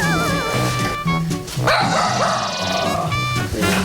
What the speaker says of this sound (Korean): 생수 배달 오신 분을 보고는 더 크게 짖은 거였네요